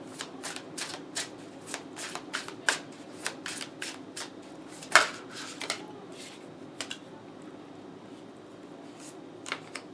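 A deck of cards is shuffled by hand for an astrology card reading, with a run of crisp riffling flicks and soft slaps at an uneven pace, close and fairly quiet, one louder snap midway, then a pause before a few more flicks.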